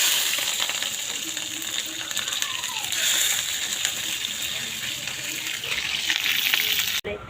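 Green chillies dropped into hot oil in a pan over a wood fire, a loud steady frying hiss with crackling, close and continuous, ending with a brief knock.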